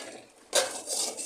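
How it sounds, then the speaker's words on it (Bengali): Lid lifted off a pot of chicken and potatoes that has been simmering, a quiet moment followed by a sudden clattering scrape of metal and a short burst of released steam. "এবার ঢাকনাটা খুলে দেখব"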